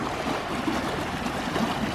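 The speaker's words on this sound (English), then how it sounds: "Water pumping out into this trough. Water running down that way." Water pumps out into a trough within a troll sculpture exhibit at a botanical garden, giving a steady, close rushing and splashing flow with no pauses and no voices.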